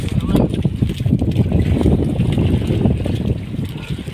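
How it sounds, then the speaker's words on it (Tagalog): A strong northeast monsoon wind at sea buffets a boat with loud, constant roaring gusts that overpower the microphone, and a heavy low rumble runs underneath without a break. "Lakas ng amihan mga brad oh."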